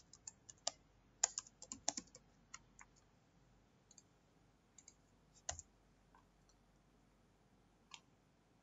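Code is typed on a computer keyboard in quiet, scattered keystrokes, with a quick burst early on and then sparse, isolated clicks close to the microphone in an otherwise silent room.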